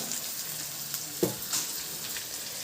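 Onion and tomato with salt sautéing in a pan, a soft steady sizzle with a few light stirring clicks and scrapes.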